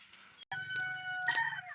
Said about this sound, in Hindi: मुर्गे ने अजान दे दी।